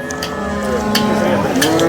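At a cattle market in Sangola, a large cow moos loudly and close by, one long drawn-out low call with a rising tail, with faint voices in the background.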